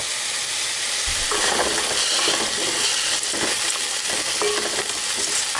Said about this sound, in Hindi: 2-3 मिनट्स ऑनियन को स्टर करने के बाद यह नरम हो चुका है।